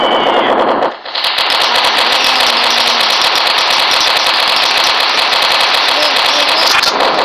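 Rapid automatic gunfire in a video game rattles loudly and continuously up close, with a brief pause near the start before the bursts resume and keep going nearly to the end.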